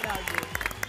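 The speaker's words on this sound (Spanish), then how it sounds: "¡Aplauso para Beto Casella!" A television studio audience applauds Beto Casella with brisk, dense clapping close by, and crowd noise and voices mix in through the short burst.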